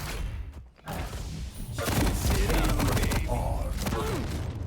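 Shotgun blasts and rapid weapon fire in the arena shooter Quake Champions during a tournament match, a dense barrage of thuds and crashes that stays loud and continuous after a brief lull near the start.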